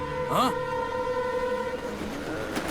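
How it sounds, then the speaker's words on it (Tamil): Rumbling train noise runs steadily under a movie scene, with a brief horn-like wail near the start and people speaking over it. "அவனுக்கு ட்ரெயின் சத்தம் கேட்டாலே பயம், தலை சுத்தி கீழே விடுவான்"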